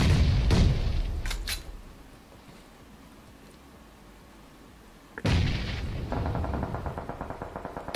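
Two loud booms from a bomb explosion in a competitive video game match, one at the start and one after a long quiet gap, each followed by crackling, rumbling aftermath.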